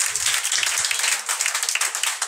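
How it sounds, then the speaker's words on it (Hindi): An audience at a Bihar Board class 10 school farewell ceremony claps for a teacher. Dense, continuous applause fills the short stretch close by. "निजाम सर के लिए एक बार ताली मार दीजिए"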